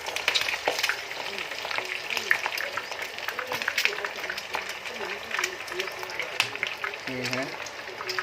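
Food sizzles and crackles steadily in a hot Teflon pan, with occasional stirring scrapes, while a person talks over it.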